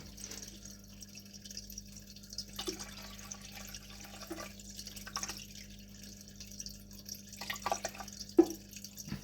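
Water trickling and dripping into a small container holding a crab, faint and intermittent, with a low steady hum underneath and no speech.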